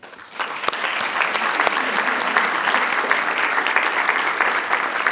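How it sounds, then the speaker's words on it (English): Audience applause at a school board meeting, a full room clapping steadily and loudly for about five seconds, with a dense, even wash of claps that swells at the start and holds. "So I just wanted to give another thanks and round of applause to Nydia and her team for their work."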